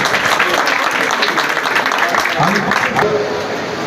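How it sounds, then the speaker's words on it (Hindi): Dense, steady applause from a crowd at a student award ceremony, fairly loud and continuous, with voices mixed faintly underneath. "एक बार सबके सब ताली बजाएं।"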